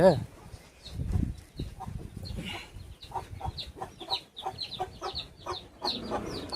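Guinea fowl calling from a high perch outdoors, a run of sharp, repeated rhythmic cries and clucks close by, with a person talking underneath at the start.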